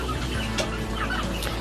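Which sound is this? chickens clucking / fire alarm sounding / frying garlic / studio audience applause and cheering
chickens clucking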